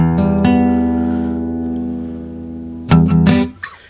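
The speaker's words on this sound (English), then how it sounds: "And then so that's called a major third." Two plucked acoustic guitar notes ring out together as a major third and sustain, then the pair is struck again, fading with a soft squeak of strings.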